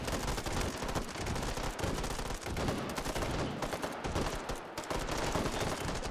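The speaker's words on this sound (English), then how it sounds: "Just a whole bunch of gunshots" Dense, continuous gunfire from the VR shooter Hot Dogs, Horseshoes & Hand Grenades on HTC Vive: rapid overlapping shots and automatic bursts fill the whole stretch at steady high volume, with no talking.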